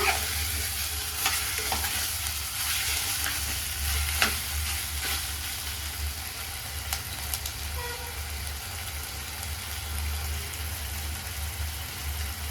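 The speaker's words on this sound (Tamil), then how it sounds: "எண்ணெயில் நல்லா காடை இஞ்சி பூண்டு விழுதில் ஃப்ரை ஆகட்டுங்க." Quail pieces frying in oil with ginger garlic paste, a steady close sizzle with occasional stirring clicks and scrapes throughout, no talking.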